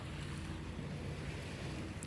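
Wind and surf at an ocean shore beside a garden, a steady broadband wash with low rumble, fairly quiet and unbroken for a couple of seconds, no voices.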